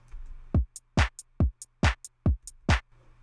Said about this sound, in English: basic beat sounds like this